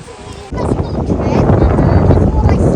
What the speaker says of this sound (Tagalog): ang lakas ng hangin mga kachika dito